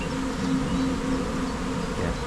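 Honey bees buzz in a steady, close drone throughout a beehive inspection, a dense continuous hum with no voices.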